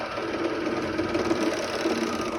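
A sewing machine runs steadily as it stitches over a fabric tag, a close, continuous mechanical whir with no voices.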